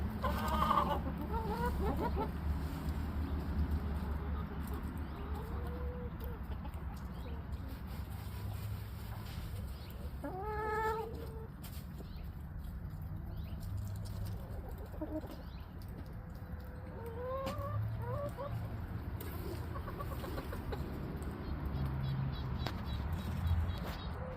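Chickens cluck and murmur intermittently over a steady low background hum, with a few short squawks scattered throughout.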